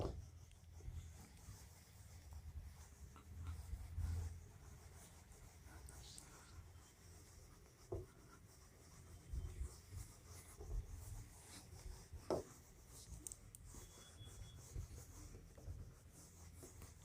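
Faint pen scratching on paper as a Hindi sentence is written out for an exam answer solution, soft and intermittent strokes over a quiet room background with an occasional louder tap.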